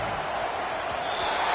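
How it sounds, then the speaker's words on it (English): A college football stadium crowd roars on third down, a dense, steady wash of voices that swells slightly as it goes on, heard from a distance without distinct individual shouts. "Decibels rising as the crowd gets behind this defense on 3rd down."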